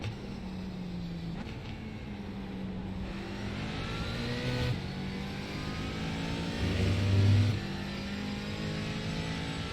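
GT4 race car in iRacing at Daytona held at full throttle, a steady loud engine drone with rising harmonics and a brief surge near the end, no talk.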